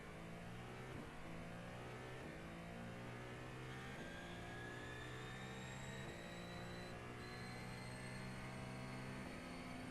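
Ferrari race car engine from a sim racing game, steady and loud with sustained droning harmonics rising through repeated revs and gear changes, no talk over it.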